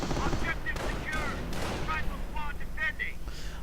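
Machine gun and artillery fire from a WWII strategy game, with repeated bursts and booms rumbling steadily while a commentator talks over the battle sounds.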